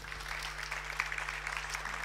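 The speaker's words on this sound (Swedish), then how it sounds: "En till applåd till Kristina." Brief applause from a seated conference audience, a soft even patter of clapping over a low electrical hum, without talk.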